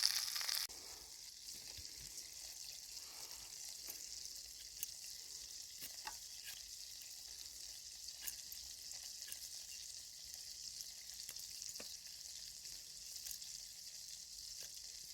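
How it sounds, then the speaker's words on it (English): Food sizzles in a greased frying pan over an outdoor campfire, a steady, faint crackling hiss with occasional sharper pops, running continuously and undisturbed by talk. "let's get this frying pan on and start getting some things cooked."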